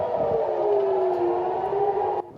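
An air raid siren wails over Tel Aviv during a Hamas rocket alert, a loud, steady sustained tone that slowly dips in pitch before cutting off abruptly.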